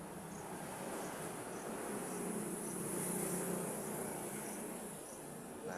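A steady, faint, high-pitched chirring of crickets kept as live feed for songbirds, continuous and even throughout with no talk.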